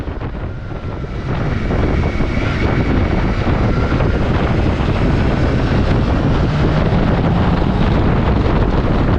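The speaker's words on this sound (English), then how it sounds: "the sound of the wind doesn't change much" Steady, loud wind roar buffets the rider on a BMW K1600B motorcycle at speed, a broad constant rush with engine drone underneath, continuous throughout with no talking.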